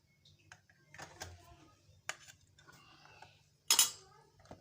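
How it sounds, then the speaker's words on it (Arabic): A spoon knocks and scrapes against a bowl as flour is stirred into a warm milk and oil cake batter, giving irregular close clinks with a sharp louder clatter near the end, no talking. "هنحطهم على الخليط بتاعنا ونقلبهم"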